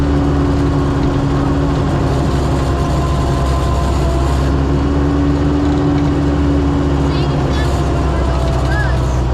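A 1953 Willys CJ3b jeep crawls slowly in first gear low, its engine a loud, steady, close-up rumble that drones without a break.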